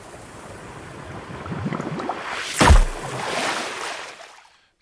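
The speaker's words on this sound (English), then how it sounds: "we can have like maybe a couple of different water splashes" A single water splash meant as a video game sound effect rises in a rushing wash, peaks in a sharp burst near the middle, then fades out to silence.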